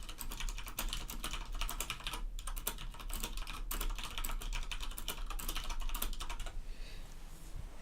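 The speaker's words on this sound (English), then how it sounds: "let's type in the chat" Typing on a computer keyboard into a chat: a fast, steady stream of close, crisp key clicks runs almost the whole time, then stops briefly near the end, with no talking over it.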